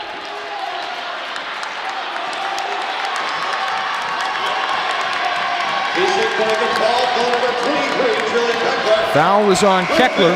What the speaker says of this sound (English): Loud applause from the UMD fans